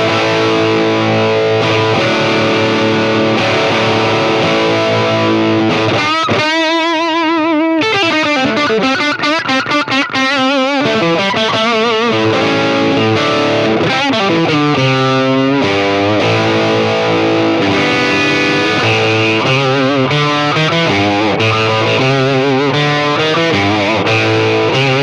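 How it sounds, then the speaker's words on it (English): Electric guitar through a Monoprice Stage Right 15 tube amp with the gain cranked, heavily distorted chords and riffs played loud and continuous, up close with no talking. "if I just crank the gain control up and leave everything else the way it is, that sounds like this."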